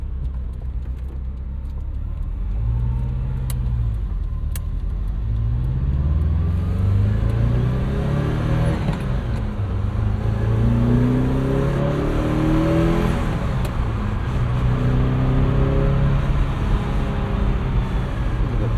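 A 1980 Ferrari 308 GTBi with a gated five-speed gearbox drives along, its engine droning loud and steady from inside the cabin, pitch climbing through repeated revving pulls and gear changes with no talk.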